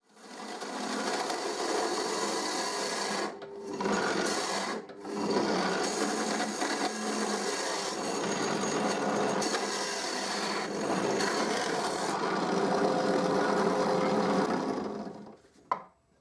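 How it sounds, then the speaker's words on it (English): A power drill with a hole saw bores into a treated wooden post, a loud continuous grinding whir with two brief pauses early on, then steady cutting until it stops with a final knock. "And now I drill in the other side of the posts."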